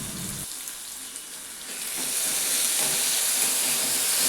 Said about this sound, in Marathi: मी आता यामध्ये कांदा टाकते आहे आणि तो हलका गुलाबी होईपर्यंत परतवून घेणार आहे